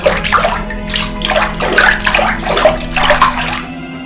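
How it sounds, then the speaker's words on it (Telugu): Water splashes and gurgles steadily into a clay water pot at a well, a close, continuous filling sound with sloshing surges and no voices. "ఆమె ఆ బావి యొద్దకు వెళ్ళి కడవలోని నీళ్లు నింపుతుండగా"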